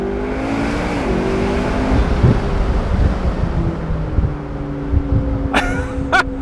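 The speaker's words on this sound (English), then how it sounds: "Oh, that turbo noise is epic. Got all the blow off and stuff." A McLaren 650S Spider pulls hard with a steady engine drone and turbo whine under wind noise, then two short sharp blow-off valve chirps near the end.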